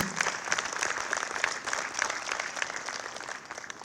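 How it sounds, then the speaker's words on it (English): A crowd gives sustained, steady applause at the ribbon-cutting ceremony for the Urban League North Spring Community Center, with dense even clapping throughout and no speech over it. "Please give them a big round of applause and acknowledgement."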